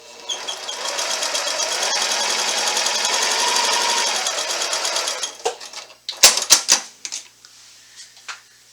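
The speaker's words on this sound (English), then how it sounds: "I'm just going to sew right on that line" A sewing machine stitches binding strips together in one continuous, even whir for about five seconds, then stops, followed by a few sharp clicks and knocks.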